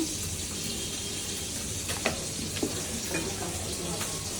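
Onion paste and chili powder frying in a pan, giving a dense steady sizzle close up with a few faint clicks of stirring and no talk.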